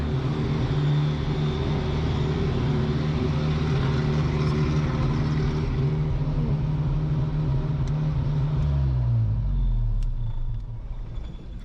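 A Toyota Hilux SR5 pickup truck with a carburetor idles near and loud, a steady low rumble that dips and settles toward the end, with no voices.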